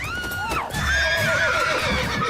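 Horse in The Witcher 3 video game gives a loud, close whinny with a descending pitched call, followed by a snort and shuffling, heard alone without talk.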